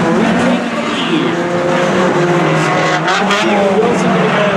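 Race cars roaring around a short oval track in a Hornet class race, engines droning loudly and continuously with brief tire squeals, under an announcer's running commentary.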